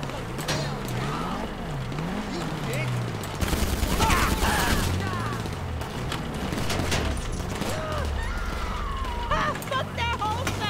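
Gunfire during a GTA 5 Online Drug Wars mission, with bursts of shots amid vehicle engine noise and chaotic action, while someone talks over the gameplay.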